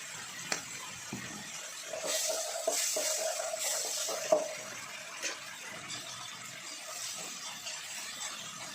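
Utensil scraping and stirring fish stir-fried with celery and pepper in a pan, a soft sizzle underneath with intermittent clinks and scrapes, fairly quiet and close, no talking.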